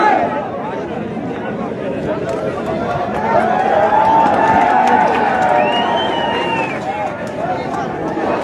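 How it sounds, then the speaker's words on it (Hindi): A large crowd of young unemployed protesters at a rally keeps up continuous shouting and chatter, with a raised chant rising and falling over a dense, loud hubbub throughout. "लेकिन युवाओं का जोर शोर"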